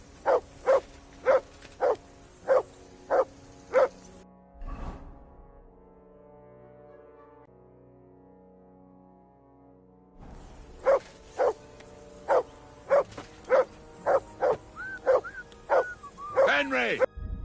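A dog barks in steady, loud, evenly spaced bursts. The barking stops for several seconds while a low horn-like drone sounds, then resumes at the same pace, with some yipping near the end.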